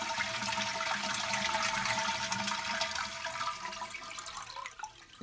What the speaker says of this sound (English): we're just going to flush it and just hold it until all the water